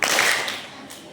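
A group seated at an Isra Miraj gathering claps on command, a sharp burst of hands at the start that quickly fades into room echo, close and fairly loud.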